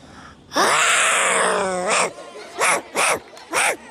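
Several children's voices imitate a big dog, first a long drawn-out growling howl, then three short loud barking shouts in quick succession.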